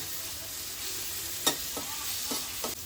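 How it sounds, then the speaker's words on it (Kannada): Ginger garlic paste and onions fry in a pan for a spinach chicken curry, giving a steady, low sizzle with a few sharp stirring scrapes; no one speaks. "ಶುಂಠಿ ಬೆಳ್ಳುಳ್ಳಿ ಪೇಸ್ಟ್ನ ಹಾಕೊಳ್ತಾ ಇದ್ದೀನಿ ಇದು ಅಷ್ಟೇ ಸ್ವಲ್ಪ ಹಸಿ ಸ್ಮೆಲ್ ಹೋಗೋವರೆಗೂ ಚೆನ್ನಾಗಿ ಹುರ್ಕೊಳ್ಳೋಣ"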